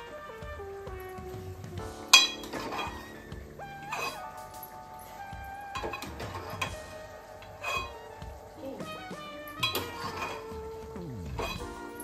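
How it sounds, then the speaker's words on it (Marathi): Boiled peas are stirred into a gravy in a pan, with intermittent close clinks and scrapes of a spoon against the metal and soft wet sloshing, quiet overall with a faint background hum. "ग्रेव्हीमध्ये मिक्स करून घ्यायचं"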